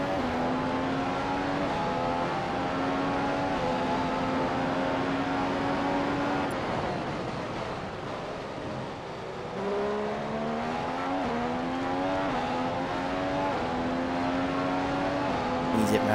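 An F1 race car engine in the F1 2015 video game at the Austrian GP, droning loud and close as it climbs through the gears in rising whines, easing briefly before accelerating hard again.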